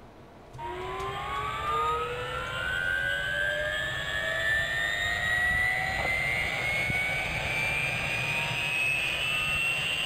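A helicopter engine in Farming Simulator 2015 starts up, its turbine whine rising steadily in pitch over a loud, continuous rushing roar, close and unbroken, with no talking.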